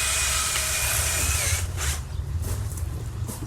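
A power drill turns a size C6 countersink bit into wood for a planter, whining loud and steady at high speed before slowing and grinding rougher as it bites into the piece.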